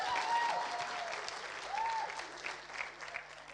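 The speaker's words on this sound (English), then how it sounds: "Let's give Danielle another round of applause." A church congregation applauds a welcomed member during a celebration service, with steady clapping and a few faint whoops over 3.5 seconds, moderately loud and fairly even throughout.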